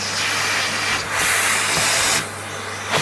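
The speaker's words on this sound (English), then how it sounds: "So what I'm now going to do is vacuum." A vacuum cleaner runs over an arcade dance pad, a steady broadband whoosh that dips and surges as the nozzle moves, with a short drop in roar near the end and no talking.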